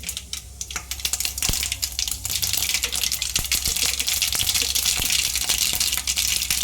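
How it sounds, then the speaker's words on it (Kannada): Mustard seeds dropped into hot oil in a pan for dal fry, crackling and popping in dense rapid bursts over a steady sizzle, close and fairly loud. "ಒಂದು ಟೇಬಲ್ ಸ್ಪೂನು ಸಾಸಿವೆ ಹಾಕ್ಕೊಳ್ತಾ ಇದ್ದೀನಿ"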